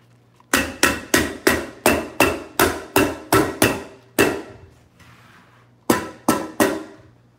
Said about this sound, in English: Let me throw a couple staples in here.